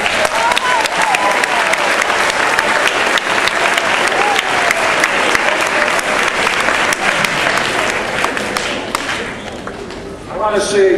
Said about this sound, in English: So give these guys a nice round of applause.